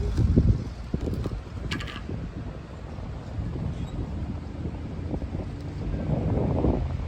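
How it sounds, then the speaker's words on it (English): Strong, gusty wind buffets the microphone at an open park pavilion beside a waterfall, a steady low roar that swells at the start and end of the stretch. "wind's blowing like crazy"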